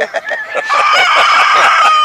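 Chickens clucking and crowing on a farm, a steady chorus of overlapping hen calls and a rooster's cry, close and continuous throughout.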